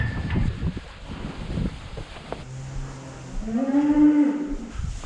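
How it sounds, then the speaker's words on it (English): Cattle, a newly bought herd, lowing on a farm, with one clear drawn-out moo near the end, rising and falling, over outdoor wind and ambient noise. "There's the new cattle."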